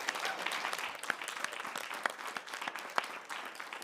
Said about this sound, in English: please give a round of applause to all the speakers